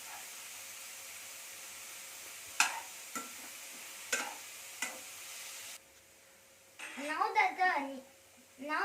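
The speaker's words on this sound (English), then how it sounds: "Now let's mix it till the onions become a little brown." Onions frying for egg curry hiss steadily in a pan while a spoon stirs with a few distinct scraping taps, then the sizzle drops away and a brief burst of clattery stirring follows.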